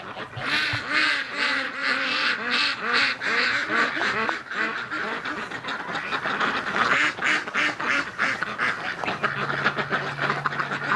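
In winter, a flock of ducks quacks steadily and near, their repeated calls loud and dense, with a brief low hum toward the end.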